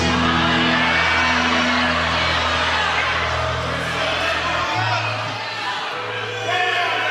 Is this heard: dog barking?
no